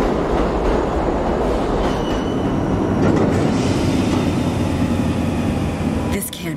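A train rushes past in the zombie shooter World War Z, a loud, continuous roar of rolling wheels and rattling cars that fills the scene before tapering off near the end.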